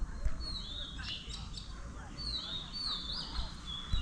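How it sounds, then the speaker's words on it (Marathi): Sparrows chirp outdoors in an open space, their short, high tweets coming in scattered bursts over a steady background hiss, moderately faint and without talk. "चिमण्यांचा आवाज येतोय की नाही."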